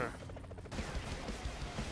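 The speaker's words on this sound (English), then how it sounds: "Explosions!" Explosions and gunfire from the side-scrolling action game Broforce, a dense, continuous burst of blasts and rapid shots that thickens after a brief lead-in and keeps rumbling loudly to the end.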